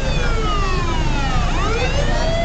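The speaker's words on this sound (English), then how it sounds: "And the siren goes on." A fire truck's wailing siren sweeps up and down over a steady rumble of traffic during a fiesta parade in Ballesteros, Cagayan, loud and continuous throughout.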